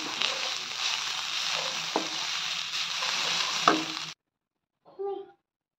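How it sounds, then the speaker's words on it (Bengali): Steady sizzling of coconut frying in a pan with occasional stirring clinks, cutting off abruptly, then a brief voice. "নারকেলটা আগে দিয়ে ভেজে নিলাম"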